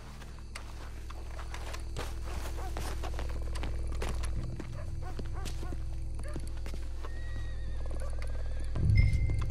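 In the video game Red Dead Redemption 2, a horse whinnies and snorts amid continuous outdoor ambience with faint hoof clip-clop and a louder snort near the end, without any speech.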